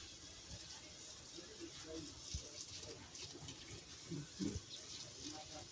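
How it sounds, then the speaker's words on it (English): Water runs and splashes softly as liquid is poured, with a few louder trickles and background voices talking faintly. "We put boiled hot water in there."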